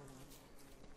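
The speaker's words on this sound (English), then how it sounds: "Oh my god, there's a lot of bee activity going on here." Bees buzzing in the video game Don't Starve, a dense, steady insect drone that fills the whole moment at close range with no talk over it.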